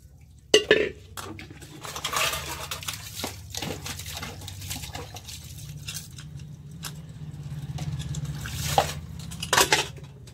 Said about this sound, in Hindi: अब हम जा रहे हैं बर्तन धोने